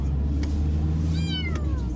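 A frightened cat meows in a short, rising-then-falling wail over a steady low background hum, close and fairly loud, with no talking.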